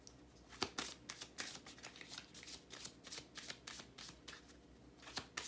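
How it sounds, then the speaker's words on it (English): Tarot cards are shuffled by hand in quick, repeated riffling bursts, close and fairly quiet, with no talking over them. "All right, so enough shuffling."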